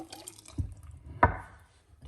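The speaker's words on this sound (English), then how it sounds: "All right, so I'm just gonna pour it out into this one." Cucumber juice poured into a drinking glass, heard as a few quiet liquid drips and one sharper splash-like knock near the middle, with faint low background hum and no talking.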